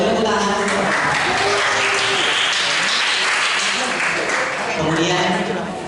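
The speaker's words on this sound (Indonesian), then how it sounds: "Boleh tepuk tangan." Congregation at a church youth anniversary celebration in Palembang claps steadily, a dense wash of applause that holds throughout while someone speaks over it.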